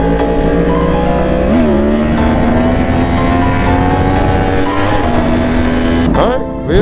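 A 2013 Yamaha R1 superbike with an aftermarket ECU flash rumbles loud and close, its exhaust holding a steady drone with shifting pitch and a brief throttle change near the end.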